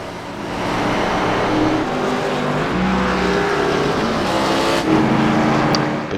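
An ARCA Menards Series race car at Phoenix in the iRacing video game, its loud engine roaring steadily as it crosses the finish line, with a faint tire squeal and other cars droning nearby.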